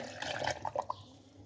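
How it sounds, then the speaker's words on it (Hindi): A cup of water is poured into a blender over mango and raw mango for a puree, making a short splashing trickle in a kitchen. "अब इसमें 1 कप पानी का डालेंगे कि ये अच्छे से ब्लेंड हो जाए।"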